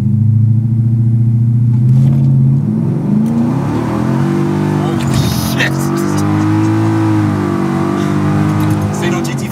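A Ford F-250 Super Duty pickup's 7.3L Godzilla engine roars and revs hard as it accelerates on a 200-shot of nitrous, its pitch climbing and shifting, with an excited shout over the noise.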